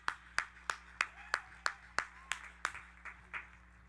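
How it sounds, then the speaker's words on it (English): Graduates at a 2022 undergraduate university commencement ceremony clap in a slow, steady rhythm, about ten sharp claps spaced evenly, fairly faint and fading toward the end, with no talk over them. "Give yourselves a round of applause."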